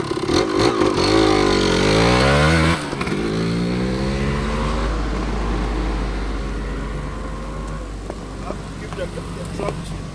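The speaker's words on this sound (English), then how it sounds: "when you rebuild these classic two-strokes and they're running like new" A 1993 Kawasaki KE100B two-stroke motorcycle engine, rebuilt and running like new, revs up and down loudly nearby in a buzzy rise and fall, then drops to a steady, slightly fading idle.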